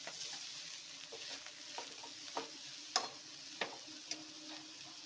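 Greens are mixed in a cooking pan for belesoppina basaru, with a soft steady sizzle and occasional scraping and light clinks of a spoon against the pan, quiet and close.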